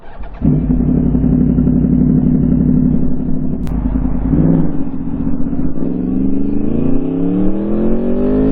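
Tuned motorcycle engine with a new ECU flash, idling with a loud, close, steady rumble before revving up and down with rising and falling pitch.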